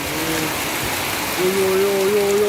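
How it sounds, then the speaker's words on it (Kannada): Heavy monsoon rain pours on the Charmadi Ghat mountain highway near Kottigehara in Chikkamagaluru, making a steady, dense hiss throughout, with a low droning hum rising in the second half. "ಇಂಥ ಮಳೆ ನೋಡೇ ಇಲ್ಲ ನಾವು. ಹೌದಾ? ಭಾರಿ ಮಳೆ ಸರ್"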